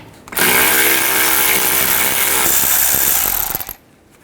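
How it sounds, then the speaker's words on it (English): A power tool with an 8mm socket removes the shield screws under the front of a 2010-16 Buick LaCrosse, giving a loud, close, continuous whirring burst of about three seconds that then cuts off. "use an 8mm socket and take these screws out"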